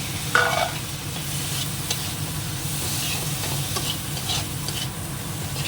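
Tomatoes go into spices and chilli frying in a pan, giving a low steady sizzle with scraping stirs and a few clinks of the spoon.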